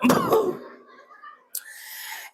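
Two sharp coughs close by, one right after the other, followed by quiet and then a soft steady hiss.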